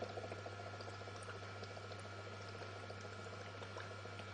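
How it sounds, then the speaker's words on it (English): Hydrogen gas bubbles from electrolysis in an electrolyte solution fizz steadily like a soft boiling hiss, continuous and fairly faint over a constant low electrical hum. "Here it shows how the bubbles look like."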